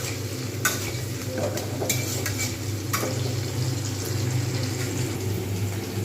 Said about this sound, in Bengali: একটু ভেজে নিই লাল করে।